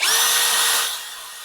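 A POLO PCB161A2 three-mode impact drill, part of a combo set with an impact driver, runs in high gear: a steady, loud, high-pitched whirring motor that holds for about a second, then drops as it winds down.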